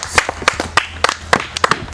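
Children clapping at a yogurt-eating competition game: sharp, separate claps in an uneven pattern, several within two seconds, fairly close and clear with faint background noise.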